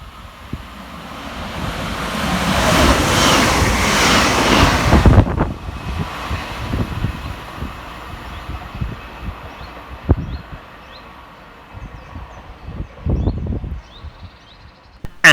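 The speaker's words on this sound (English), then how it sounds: "Next to pass fast through the station for Northern is 323235, working 2 Alpha 85 from Crewe through to Manchester Piccadilly" A Northern class 323 electric unit, 323235, races through Goostrey station on the Crewe to Manchester line. A loud broadband rushing roar fills the first five seconds, then fades into lower rumbling with a few scattered clanks.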